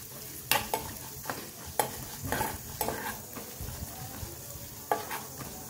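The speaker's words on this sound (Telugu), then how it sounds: "మంచిగా ఇది వేయించుకోవాలి ఇప్పుడు లో ఫ్లేమ్లో।" Urad dal frying gently over a low flame for a raw papaya curry, with a soft steady sizzle broken by sharp clicks of a spoon stirring against the pan.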